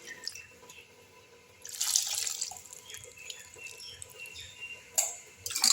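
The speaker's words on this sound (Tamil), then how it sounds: "இப்போ புளி தண்ணியை தூக்கி ஊற்றிடலாம்" Tamarind water splashes and trickles into a cooking pot in a few short bursts, with quieter dripping between them, close by and with no talking.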